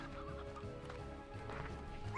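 Ordinary hens in a video game cluck in short, bright bursts over a dense bed of game music and ambient sound, moderately loud and continuous throughout.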